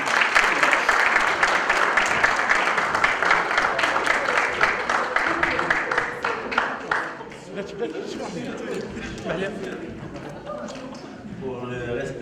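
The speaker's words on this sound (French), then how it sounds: "Des applaudissements s'il vous plaît." Audience applause at a conference rings out as dense, sustained clapping from a large crowd, fading after several seconds into scattered claps and murmuring voices.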